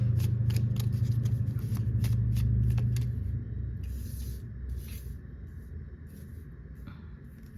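A deck of oracle cards is shuffled close up. A rapid fluttering riffle lasts about three seconds, followed by softer rustling and sliding shuffles, with no voice.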